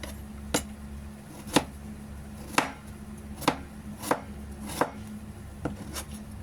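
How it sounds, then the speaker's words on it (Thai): A knife chops food on a cutting board into small thin pieces, after earlier thin slicing with pumpkin nearby, giving about nine sharp, close, evenly spaced knocks with no talking. "แล้วเราก็จะมาซอยเป็นชิ้นเล็กๆเพราะเราหั่นบาง ๆ แล้ว"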